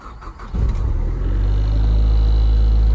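A Nissan Pulsar GTi-R's engine cranks briefly, then catches and settles into a steady, heavy low rumble at idle, close by with no talk.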